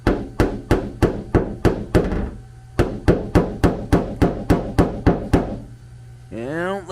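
A hammer knocks out a dent in the bodywork of a Subaru Impreza at a junkyard, giving about twenty sharp metallic blows in a quick, even rhythm, close and loud, with a short pause midway and a squeal at the end.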